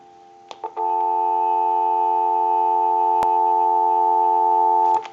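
A steady telephone dial tone from a Leich wooden wall crank telephone converted for modern lines hums continuously for several seconds after a few brief clicks, with a single sharp click near the end.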